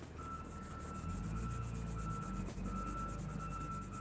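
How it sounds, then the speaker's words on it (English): Steady, faint rubbing and scrubbing as grease is wiped off the surface of an engine cylinder head, a continuous low-level friction sound with no speech. "I'm just cleaning up the head surface here. Get a lot of the grease or whatever else off this thing."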